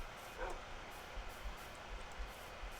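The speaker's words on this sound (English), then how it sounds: "Oh, and I do have a pet dog now." A pet dog in the Minecraft Lord of the Rings mod gives one short, quiet bark early on, then only faint game ambience with a few soft low thumps.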